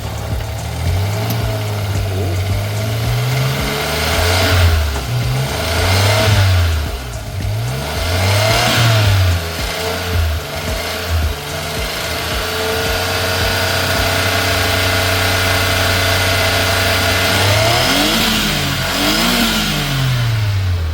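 A Suzuki DA17W turbocharged car engine revs up and down repeatedly, rising and falling in pitch, then settles into a steady loud idle before another rev.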